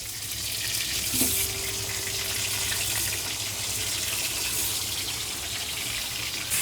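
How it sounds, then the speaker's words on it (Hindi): One kilogram of chicken for a street-style karahi fries in hot ghee, producing a loud, steady, hissing sizzle that runs unbroken from start to finish. "घी के अंदर हम चिकन को फ्राई करेंगे"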